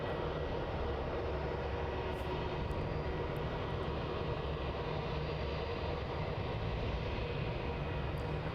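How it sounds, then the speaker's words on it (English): Jetstar Airbus A321 jet departing runway 34 at Melbourne Airport, a steady broadband engine roar that holds loud and even throughout with no talking. "Departing off runway 34 now, we have Jetstar flight JQ436 off to the Gold Coast. It's an Airbus A321."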